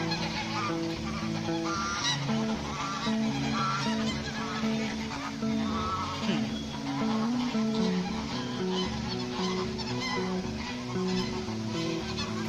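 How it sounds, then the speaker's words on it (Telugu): Ducks at a crowded bird park at Ramoji Film City in Hyderabad fight and honk angrily, a dense, continuous racket of overlapping calls with other fowl clucking close by. "ఆ డక్స్ చూడండి కొట్టేసుకుంటున్నాయి."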